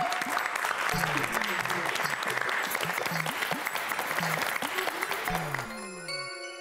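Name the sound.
audience applause welcoming guests on stage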